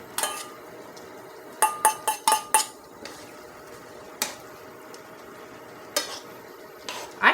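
Browned ground beef is added back into a pan with broth for a beef stroganoff and stirred, with sharp metal utensil clinks and scrapes coming in uneven bursts over a faint simmer.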